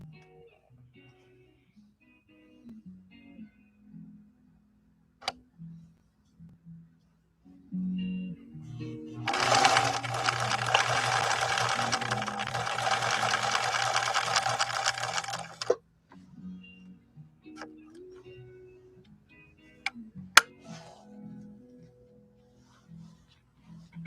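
A 1964 Viking Husqvarna 19E Special sewing machine stitches in one steady, fairly loud burst of about six seconds, with a dense whirring rattle. Quieter handling clicks and bumps come before and after it.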